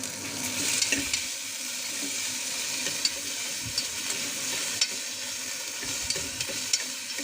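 Ginger garlic paste fries in a pan for a ridge gourd and chana dal curry, a dense, even sizzle running throughout with faint occasional taps of a spoon stirring.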